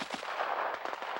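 Distant gunfire from Japanese troops giving fire support during a military exercise with Marines, a brief burst of muffled, crackling reports.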